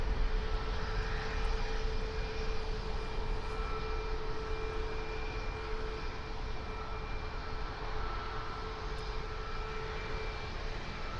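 A Bombardier Global 6500 business jet at Toronto Pearson airport gives off a steady, moderately distant engine roar with a faint whine held throughout, and no one speaks over it.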